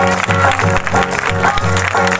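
Congregation at a church healing meeting clapping in a steady rhythm along with loud held musical chords, the claps close and evenly spaced throughout.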